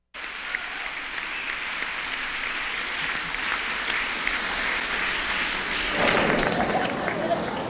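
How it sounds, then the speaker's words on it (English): An audience at the Miami Book Fair applauds author Dave Barry with sustained, dense clapping that fills the whole stretch and grows a bit louder and fuller toward the end, with a few voices mixed in. "Let's give a round of applause."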